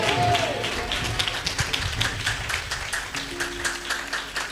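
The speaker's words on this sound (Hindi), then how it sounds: "तालियों के साथ बोलेंगे" A church congregation claps rhythmically during a Hindi sermon, a string of regular hand claps under a woman preacher's voice, moderately near and even in pace.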